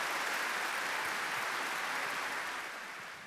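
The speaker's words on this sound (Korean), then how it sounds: "큰 박수로 환영해 주시기 바랍니다" An audience gives a dense round of applause to welcome a speaker at a charity donation ceremony, steady at first and then tapering off.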